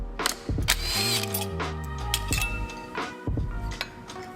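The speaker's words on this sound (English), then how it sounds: "Now that we have got the gear selector rod off" Metal clicks, ratcheting and clinking sound close by as the gear selector rod is worked off a failed Nissan CVT transmission, with a few heavier knocks.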